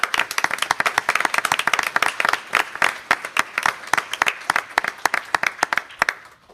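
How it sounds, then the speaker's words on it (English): An audience at a school district board meeting claps steadily to honor staff who are retiring. The applause is dense and even and keeps going the whole time until it fades at the end. "Let's give them all a hand for those years of service."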